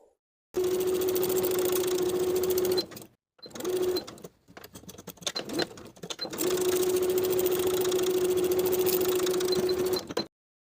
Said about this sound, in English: Sew across those raw edges with a 1/4 inch seam allowance.